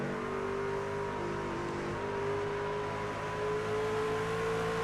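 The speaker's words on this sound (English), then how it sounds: "Listen to how smooth that truck is." A race truck engine from the iRacing Silverado 250 Sportsman Division drones steadily in the game, a smooth sustained whine with slight pitch shifts, carried alone and moderately loud.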